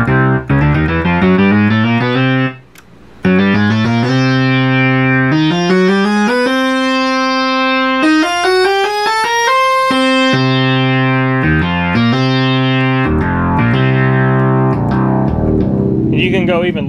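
A repaired and modified Minimoog synthesizer, driven by an MPU-101 MIDI controller, plays loud, bright sustained tones that glide and step in pitch, some buzzy and distorted, with a brief drop near the start.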